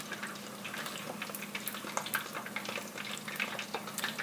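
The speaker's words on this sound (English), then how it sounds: "our wings are nice golden brown, so we're going to transfer them from the oil" Golden-brown fried chicken wings lifted out of hot oil into a roaster, with steady close bubbling and sizzling from the oil and scattered light clatters as the wings are moved.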